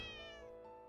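A single drawn-out cat meow from the video game The Cat Lady, clear and tonal, fading away over under a second, quiet and alone.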